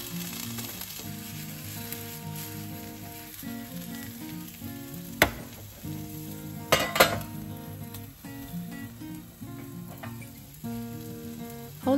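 An egg pancake fries in a pan, giving a steady close sizzle throughout, broken by a few utensil clinks and knocks against the pan as it is covered to cook.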